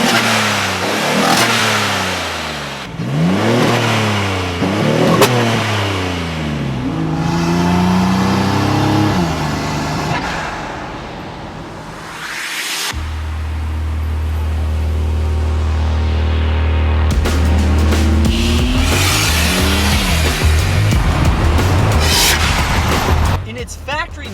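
A modified GMC Typhoon with an upgraded turbo, atmospheric wastegate, headers and full exhaust revs hard through repeated rising and falling sweeps, then settles into a steady loud drone, with a voice talking over parts of it.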